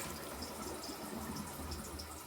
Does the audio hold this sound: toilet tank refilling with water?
yes